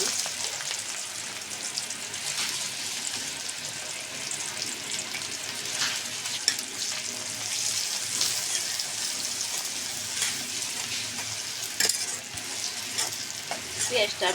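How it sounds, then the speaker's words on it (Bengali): Chopped onion sizzles steadily in a hot frying pan for a fish and vegetable stir-fry, a bright continuous crackle with occasional stirring scrapes, close and loud with no talking. "এটাকে একটু ভেজে নেব দিয়ে দেব পেঁয়াজ কুচি"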